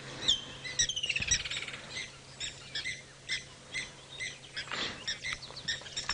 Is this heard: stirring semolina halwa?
no